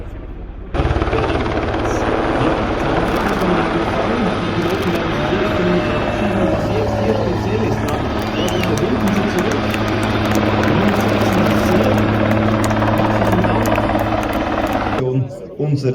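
A military helicopter performs at the Axalp airshow in the Swiss Alps, its rotor and turbine roar holding loud and steady for most of the clip before cutting off near the end, with a commentator's voice faintly underneath.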